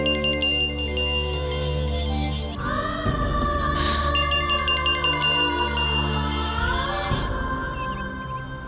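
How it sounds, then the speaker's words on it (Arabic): A telephone ringtone plays a steady, repeating electronic tone while a call is placed, heard alone with no talk and holding at an even level throughout. "خليني اتصل بمازن وخبره"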